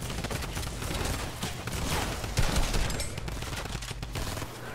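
Rapid suppressed SMG bursts in a zombie horde-rush video game, steady dense crackling fire alone for nearly five seconds amid busy game noise.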